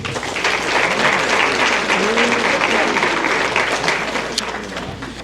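Athletic banquet audience giving sustained loud applause for award winners, dense clapping filling the room with some cheering voices mixed in.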